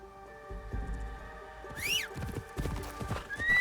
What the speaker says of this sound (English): I'm definitely going to call my horse